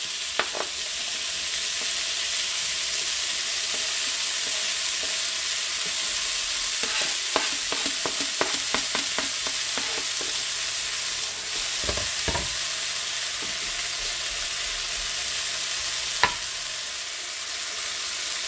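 Rice and carrots sizzle in a hot pan in a steady hiss, with scattered scraping and stirring knocks partway through and no voices.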